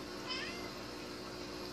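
A cat meows briefly against a steady background hiss, fairly close.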